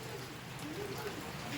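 Pigeons kept as flying birds coo softly while perched, a low throaty murmur under a steady wash of rain-like noise that fills the whole short stretch.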